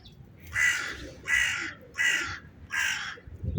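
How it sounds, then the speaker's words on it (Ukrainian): A crow caws four times in a slow, even rhythm, each harsh call loud and close, with faint background noise between. "Ворона теж їсточки хоче, каркає."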